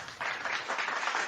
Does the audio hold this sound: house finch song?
no